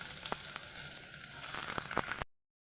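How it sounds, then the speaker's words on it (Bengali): Chopped onion sizzles in hot oil for a chicken sandwich filling: a steady, fairly quiet frying hiss with a few faint clicks, ending abruptly into silence after about two seconds. "তেলটা দেখুন গরম হয়ে গেছে প্রথমেই আমি দিয়ে দেব পেঁয়াজ কুচিটা"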